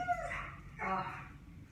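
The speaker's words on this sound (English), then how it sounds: "my dog heard my daughter, so now she's going a little crazy" A dog giving short excited yips and whimpering barks indoors, two quick bursts at moderate distance.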